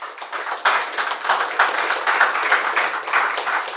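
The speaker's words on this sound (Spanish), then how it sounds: "Denle un aplauso al Señor." A church congregation claps in praise during a Spanish-language service, a sustained, dense patter of many hands with rhythmic swells, fairly loud and close, without speech over it.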